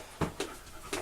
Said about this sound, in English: My dog's barking at me